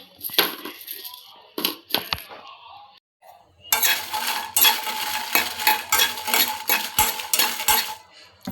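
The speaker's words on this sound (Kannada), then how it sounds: "ಅದಕ್ಕೆ ಆಯಿಲ್ ಎಲ್ಲ ಬೇಡ ಹಾಗೆ ಫ್ರೈ ಮಾಡ್ಕೊಳ್ಳೋಣ" Byadagi dry red chillies being dry-roasted in a pan with no oil, a quiet clink at first, then a steady dense rattling and scraping of a utensil stirring and tossing them close up.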